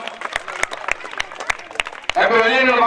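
An audience at a karate event claps in scattered, uneven bursts, then a voice breaks in loudly over the last moments.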